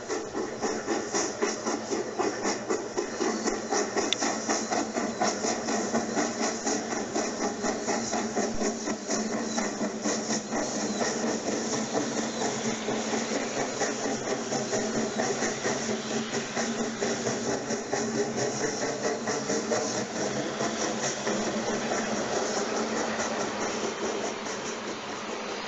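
The Flying Scotsman steam locomotive departs, chuffing rapidly and steadily with loud hissing steam, a continuous rhythmic working beat that holds for the whole stretch.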